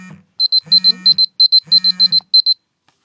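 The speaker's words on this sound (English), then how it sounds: "That's my alarm light." A morning alarm beeps in rapid pairs of high electronic tones, repeating in steady bursts, loud and close, with a faint voice briefly at the start.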